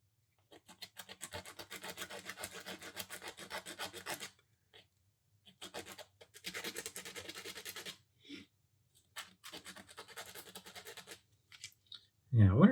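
Tiny wooden parts for a Rolife miniature chair kit are sanded by hand in quiet close-up bursts of rapid rasping strokes, broken by short pauses, with a soft thump at the end.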